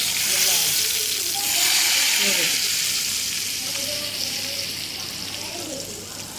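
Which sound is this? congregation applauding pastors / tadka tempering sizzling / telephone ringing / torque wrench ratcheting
tadka tempering sizzling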